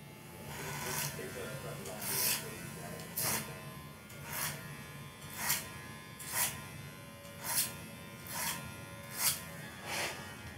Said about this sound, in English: Try clipper over comb with the old one.